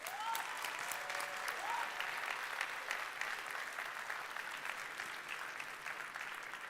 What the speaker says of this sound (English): let's have the biggest round of applause of the morning for all of our mentors